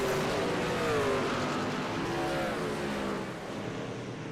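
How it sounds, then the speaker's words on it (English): Race trucks roar around The Rock oval after the green flag, a dense, continuous engine drone with rising and falling pitch sweeps as several trucks rev and pass together. "All right, green flag, we're gone, we're racing."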